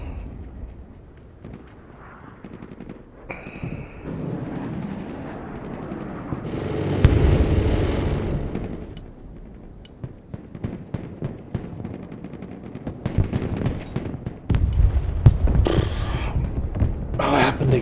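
Aircraft strafing fire thunders through the Broken Arrow battlefield, bursts of rapid gunfire and booming explosions that swell, fade and return in dense clusters, with brief talk mixed in.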